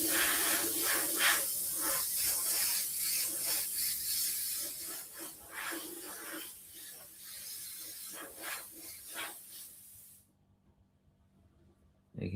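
An airbrush sprays black paint onto the inside of a black hole artwork, giving a steady close hiss with soft pulsing bursts that stops abruptly near the end.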